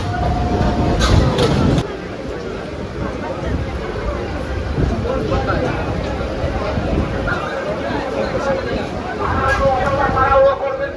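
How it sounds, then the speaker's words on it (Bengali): A crowded passenger train near Bandel rolls along with a steady rumbling clatter from inside the carriage, while passengers chatter and a voice talks over the continuous noise. "আর ট্রেনটা ছেড়েও দিয়েছি"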